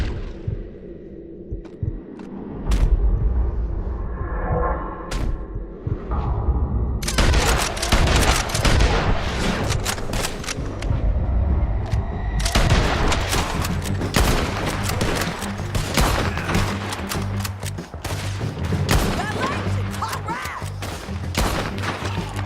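Gunfire in the video game Red Dead Redemption: scattered single shots at first, then dense, loud volleys of rapid shooting and booms that run almost continuously for over twenty seconds.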